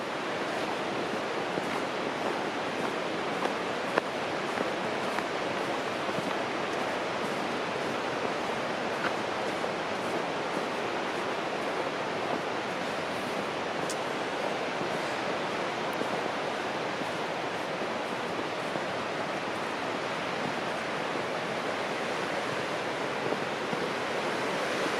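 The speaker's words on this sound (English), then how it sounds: "there's also all sorts of smaller falls and cascades" Waterfalls and cascades on the Yellowstone River in the Grand Canyon of the Yellowstone rush in a steady, broad roar of white water, constant and unbroken for the whole stretch, with no voices.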